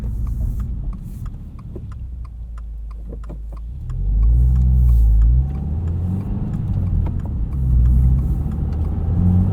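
A 2022 Subaru WRX Premium with a six-speed manual drives along with a low engine rumble and road noise, swelling twice as it accelerates and revs through gears, heard from inside the cabin without talk.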